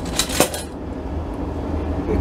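Ladle and pot clanking while pasta with meat sauce is served, a few sharp metallic clinks early on, then a softer steady kitchen rumble of the dish being handled.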